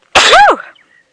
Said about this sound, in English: Now I've got the sneezes.